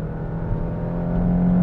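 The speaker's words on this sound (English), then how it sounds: "So foot's down, little delay, little wheel spin, a lot of wheel spin, shifts." A VW MK7 GTI under hard acceleration with wheel spin, its engine droning steadily and rising slightly in pitch and loudness, with no talk over it.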